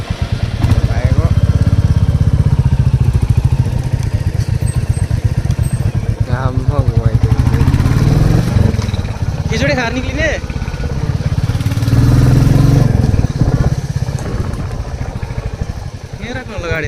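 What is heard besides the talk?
motorcycle engine idling while parking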